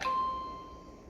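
An iRobot Braava jet m6 mopping robot chiming after its spot and home buttons are held together: a single clear electronic tone that rings briefly and fades, nearby and alone over faint room noise.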